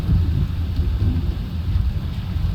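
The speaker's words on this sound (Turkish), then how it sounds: "Yağmur başladı." Rain and thunder in a PC video game played on an RTX 4060 system: a steady, loud wash of rain with a low rumbling roar running throughout, with no talk.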